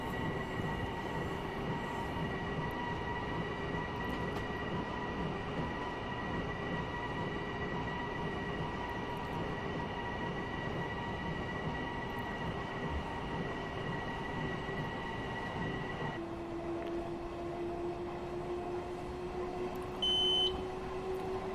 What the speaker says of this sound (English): It's almost as though this train has gears.